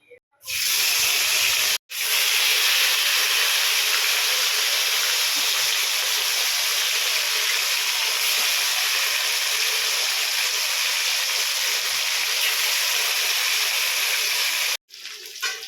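Fish fries in hot mustard oil, making a loud, continuous close-up sizzling hiss that holds steady for most of the stretch, with brief breaks near the start and end.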